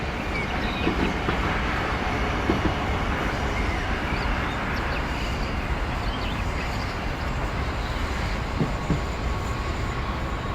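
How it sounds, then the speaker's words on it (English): A model railway locomotive runs back over the points, giving a continuous close rumbling mechanical whir with faint intermittent clicks from the track. The level stays steady throughout, with no voices. "Let's bring that locomotive back."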